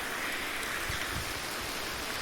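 Outdoor rainfall makes a steady, even hiss of drops with no pauses, a dense wash of sound and occasional low thumps beneath it, and no voices.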